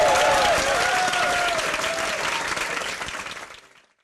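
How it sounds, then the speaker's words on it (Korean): Audience applause from a crowd, a dense steady burst of clapping at full strength that thins and fades out near the end. "박수 한번 주세요."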